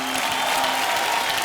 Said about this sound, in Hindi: थैंक यू, तालियां मेरे लिए।